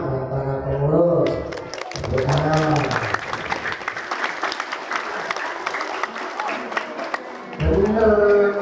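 A mosque crowd gathered for a Maulid Nabi celebration claps hard in a long, dense burst of applause, with voices talking over it at the start and end.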